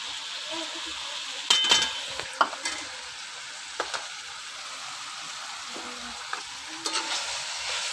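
Cauliflower and minced mutton fry with roasted coriander, nigella and carom seeds, sizzling steadily while a spoon scrapes and clinks against the pan in several sharp knocks; no one speaks.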